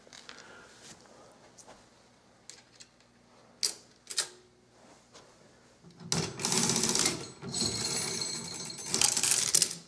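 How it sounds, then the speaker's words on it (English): On a coin-operated Caille roulette machine, a trap door opens and drops coins into the payout. Sparse mechanical clicks and ticks give way to a louder burst of metallic clattering near the end, heard close up. "So this little trap door here will open up to allow the coins to fall through."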